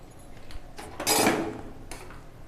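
A spoon scraping and stirring egg biryani in a pot, a short clattering metal-on-pot scrape swelling for about half a second after a few light taps, close and alone.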